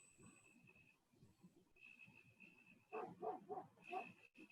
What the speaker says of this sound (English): I'm hearing crickets and a dog,